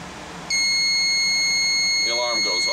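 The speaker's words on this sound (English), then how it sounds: "The alarm goes off." A 12V battery low-voltage alarm buzzer board, connected to a battery already low on voltage, starts a loud continuous high-pitched tone that holds steady, with a person talking over it near the end.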